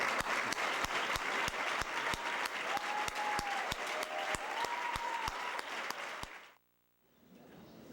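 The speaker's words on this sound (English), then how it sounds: "We'd like to give you a round of applause," A large dinner audience at a 2004 foundation gala gives a sustained round of applause for teachers and staff, a dense wash of clapping with a regular sharp knocking running through it, before it cuts out and leaves quiet room noise.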